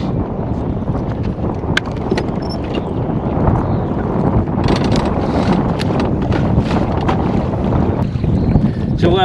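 Loud, steady wind rushes around a point on a lake during bass fishing, buffeting the microphone with a constant roar and occasional gusts.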